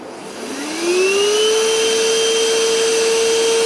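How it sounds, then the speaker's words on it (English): A small vacuum cleaner, powered at 110 watts DC from a GoFort 1000W solar generator, starts up to clean out a tent, its motor whine climbing in pitch then holding a loud, steady drone. "we need to vacuum out our tent before we put our bed in that we blew up"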